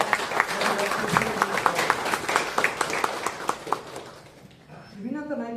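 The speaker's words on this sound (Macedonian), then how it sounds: "Ве молам сите со еден аплауз да ги поздравиме" An audience at a public forum on organ donation breaks into sustained applause, a dense patter of many clapping hands that thins out toward the end as a voice begins to speak.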